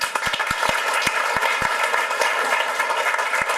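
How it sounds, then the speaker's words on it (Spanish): Audience applause welcoming guests at a literary gathering, a dense wash of many hands clapping with a few sharp nearby claps standing out, sustained and fairly loud. "quiero pedir para ellos un aplauso muy especial"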